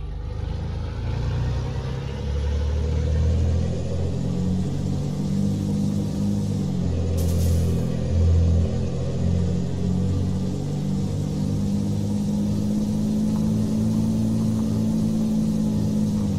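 A car engine rumbles steadily at close range and builds slowly as it accelerates, a continuous low drone that runs unbroken for the whole stretch with no talking over it.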